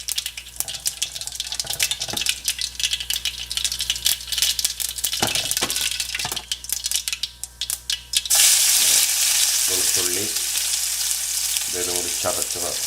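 Crushed garlic hits hot oil in a pan where mustard seeds have popped, giving a loud, steady sizzle with scraping and stirring clatter, then a sudden louder burst of frying.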